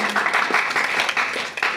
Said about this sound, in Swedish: en applåd till våra gäster